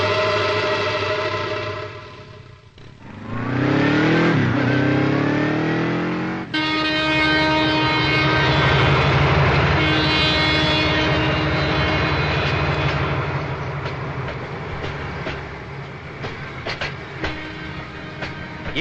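A train at a railway station during a movie fight scene gives a loud, continuous mechanical rumble, with a rising and falling whining tone and steady harmonic drones that hold for most of the clip.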